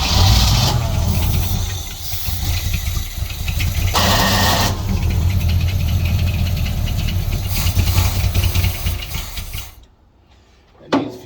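A 1964 Suburban engine runs with mufflers fitted but no tailpipe, low on fuel, giving a loud, steady rumbling idle with a mechanical clatter. It briefly surges, then sputters and cuts out near the end before a short restart.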